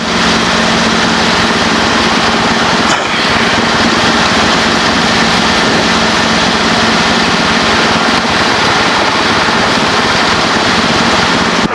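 A loud, constant Robinson R-22 Beta helicopter engine whine and rotor roar fills the whole stretch in flight, steady and close, with no pauses.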